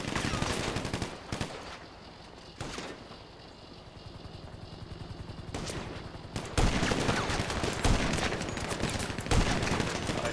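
Gunfire from a sniper fight in GTA 5 Online, with sharp loud shots at irregular intervals and a denser run of cracks in the second half, with speech in places.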